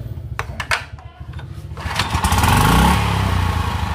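A used Japanese Honda water pump engine is pulled and coughs a few times, then fires and revs up into a steady, loud, close chugging run.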